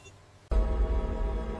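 Heavy bunker blast door pistons engage to seal the door into surrounding bedrock: after a quiet half second, a sudden loud low rumbling roar starts and holds steady, dense and powerful, with no voices.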